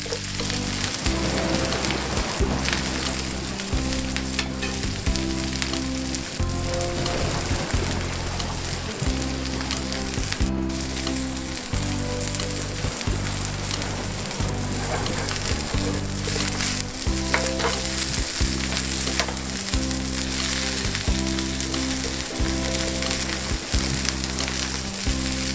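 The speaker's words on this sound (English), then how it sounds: "Add the sprouts. Fry for a flat side down to get the char going." Brussels sprouts and onion sizzling flat side down in a hot pan, a dense, steady crackle of frying that continues without a break.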